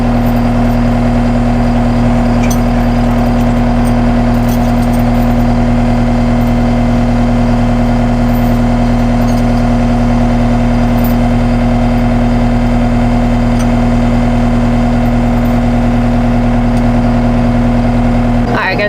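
Skid steer engine running steadily while pulling fence posts, a loud constant low hum with no pauses, close to the listener.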